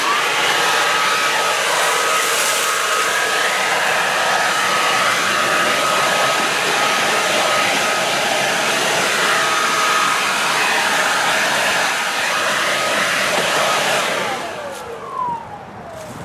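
An ECHO 58-volt lithium-ion brushless cordless leaf blower runs steadily at full power with a loud, broad airy roar lasting about fourteen seconds, then winds down and falls away near the end.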